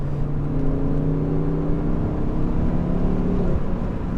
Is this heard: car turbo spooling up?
yes